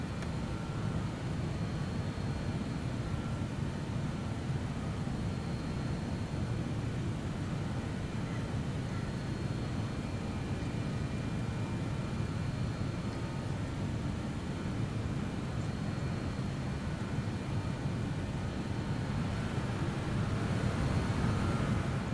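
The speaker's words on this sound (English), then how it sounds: "It's quite a heavy aircraft and a very underpowered aircraft" Quiet, steady broadband roar inside a heavy BAe 146 freight aircraft climbing slowly after takeoff, an unchanging cabin engine drone with no talking.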